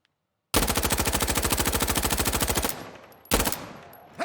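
An MP5 submachine gun fires in Insurgency Sandstorm: one rapid, loud, close automatic burst for about two seconds, then a brief pause and a second short burst.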